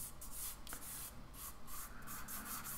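A fingertip blends soft pastel across paper in a tropical beach drawing, making a rapid series of close, faint, dry rubbing strokes in a steady rhythm with no talking.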